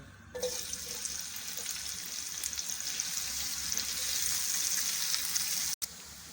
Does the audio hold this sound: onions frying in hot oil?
yes